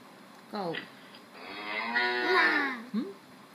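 A young child at bedtime imitates a cow, giving a short syllable and then a long, drawn-out moo that swells and fades, followed by a brief clipped sound, close and alone.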